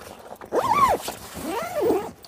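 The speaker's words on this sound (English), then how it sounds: "And we zip the right hand side of the main door" Zippers on the main door of a camper trailer tent are run along in two drawn-out passes, each a rising and falling rasp, close by and clear with no talking.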